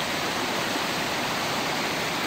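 A river or brook flows under a small footbridge, producing a steady, full rushing wash of water with no pauses or other sounds.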